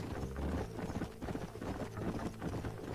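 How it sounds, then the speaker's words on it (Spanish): Horse hooves galloping in the video game Red Dead Redemption, a rapid continuous clip-clop rhythm close and steady throughout, mixed with game ambience. "su caballo corre bien rápido, ¿no?"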